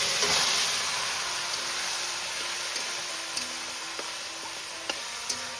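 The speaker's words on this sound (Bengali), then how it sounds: "এবার আমি দিয়ে দিচ্ছি চাল কুমড়োটা" Ash gourd tipped into a pot of fried potatoes for a prawn and ash gourd curry sets off a steady, close sizzle, with scattered light clicks and taps of a utensil against the pot.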